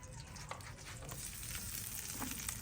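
Potato chutney fries in hot ghee in a frying pan, giving a quiet, continuous crackling sizzle with small pops throughout.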